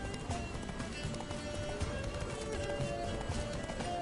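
Horse hooves gallop in the video game The Witcher 3, a fast continuous patter of clopping beats under ambient noise and engine-like hum, moderately loud.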